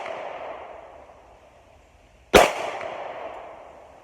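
A Springfield XD-S Mod.2 .45 pistol fires a single sharp, loud report outdoors on a ranch, the crack followed by a decaying echo tail over faint background noise.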